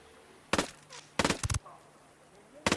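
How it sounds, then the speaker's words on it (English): Sharp gunshots in the video game Ghost Recon Wildlands, a single crack followed by a tight cluster of three and another near the end, loud and abrupt over a low game background. "Must have heard the gunshot."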